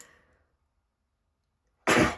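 A single sharp sneeze bursts out near the end, close and loud, after a faint breath and a long pause of near silence.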